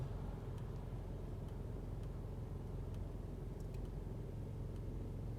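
Steady low rumble of a car cruising on a freeway, an even, continuous road and engine drone with no talking.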